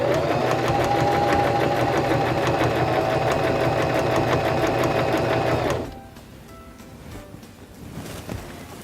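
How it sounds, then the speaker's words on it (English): A sewing machine stitches fabric under foot-pedal control, its steady whirring motor running loudly for about six seconds, then it stops, leaving quiet handling noises and faint clicks. "Now we can press down on our foot control and sew."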